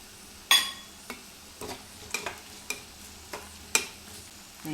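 Small cashew pieces frying in oil over a low flame, with a steady soft sizzle under a series of sharp clinks and scrapes from stirring in the pan, no voices.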